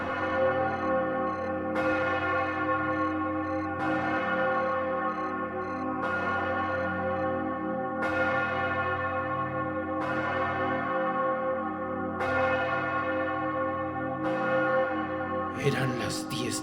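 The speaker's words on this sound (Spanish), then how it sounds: "Eran las 10 de la noche. Las campanas sonaron." Church bells ring at night in a steady, loud, continuous peal, with fresh strikes roughly every two seconds over a sustained resonant hum and no voices.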